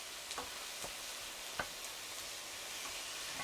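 Faint stir-fry sizzle in a pan, a soft steady hiss with a few light clicks and taps of stirring.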